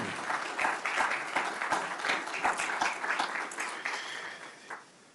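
An audience greets Attorney General William Barr with sustained applause, a dense crowd of hands clapping steadily and close, fading out toward the end with no voices heard.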